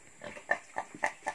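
A village pig crossbred with a Chinese pig gives a quick series of five or six short, nasal grunts and oinks, close and fairly loud, with brief pauses between them.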